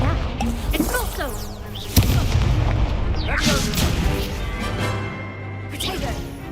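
Spell impacts crack and boom in a Hogwarts wizarding video game, a sharp blast near the two-second mark amid dense combat clatter and whooshes, with players' voices talking over the action throughout.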